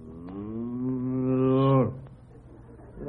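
A single cow lets out a long, drawn-out moo lasting nearly two seconds, rising slightly in pitch before cutting off abruptly, set in an old radio comedy milking scene.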